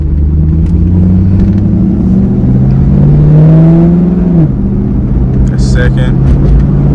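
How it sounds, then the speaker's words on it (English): Engine of a 2002 Camaro Z28 with a failing transmission revs and climbs in pitch inside the car, then drops back; loud steady rumble throughout, with a voice speaking briefly near the end. "Let's see if that shit just revs now and it doesn't fucking go at all."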